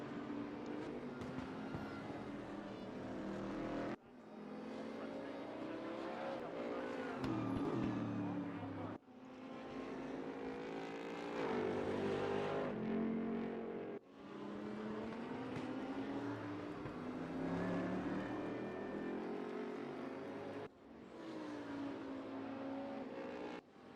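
A GT3 race car on its out lap at Sonoma in the RaceRoom racing game, engine droning loud and constant with rising revs cut by brief dips at each gear shift.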